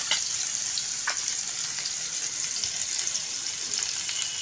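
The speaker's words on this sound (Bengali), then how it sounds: "এবার আমি সয়াবিনগুলো লাল লাল করে ভেজে নেব।" Soya chunks fry in oil with a continuous bright sizzle, and occasional stirring clinks sound close to the pan.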